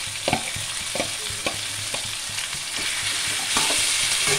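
Chicken meat frying with browned onions in a pan, a loud continuous sizzle broken by sharp spatula taps and scrapes against the pan, with no voices.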